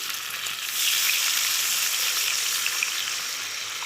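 Fried rohu fish pieces dropped into a pan of sizzling spices for a Bengali kasha-style curry, giving a steady, loud frying hiss that swells after the first half second and holds without talk.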